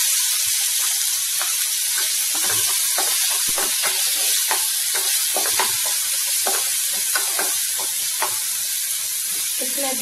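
Chopped tomatoes sizzle steadily in a hot frying pan, cooked for a Western Odisha-style tomato chutney, with a continuous bright hiss broken by frequent stirring clicks and scrapes, close and fairly loud throughout.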